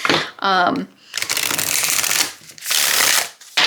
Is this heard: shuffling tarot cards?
yes